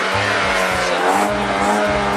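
A newly bought car's exhaust roars loudly up close in repeated revving bursts with a deep throbbing low end, and no talk over it.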